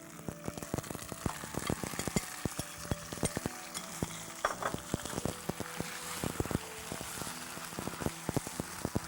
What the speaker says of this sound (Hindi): इस मटन को करीब 5 से 10 मिनट तक आपको भूनना है